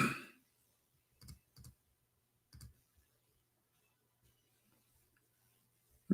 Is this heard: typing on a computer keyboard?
yes